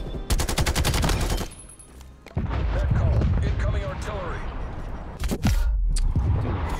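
Gunfire in the Call of Duty Black Ops Cold War beta on the Cartel map: rapid automatic bursts and loud shots, close and dense, with a player talking amid the firing.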